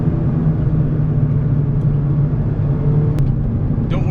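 Steady engine drone and road rumble from inside a Mazda mid-engine sports car cruising along, a constant even hum with a faint click near the end and no talk.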